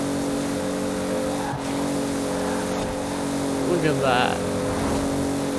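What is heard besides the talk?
Toyota Supra racing in video game Forza Horizon 4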